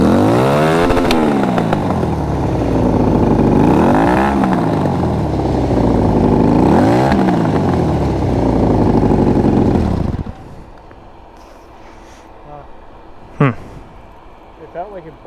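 A motorcycle engine revs loudly in three rising and falling surges, sounding strained as it bogs down, then cuts to quiet background where people talk.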